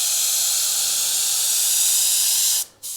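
An airbrush sprays air and paint in a steady, loud hiss, held continuously before cutting out sharply for a split second and then resuming.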